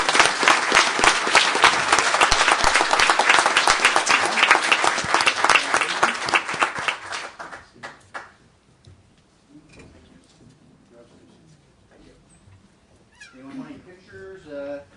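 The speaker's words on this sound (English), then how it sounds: "So if you would all join me, please, in a round of applause." A live audience at a city commission meeting gives firefighters a loud, dense round of applause that fades out around the midpoint, followed by quiet room noise and a voice starting to speak.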